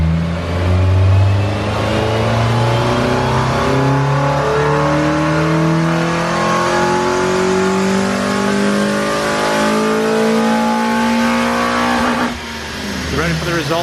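An Acura TSX with a six-speed gearbox revs in fourth gear on a dyno, the engine note climbing steadily and loudly for over ten seconds before cutting off sharply near the end.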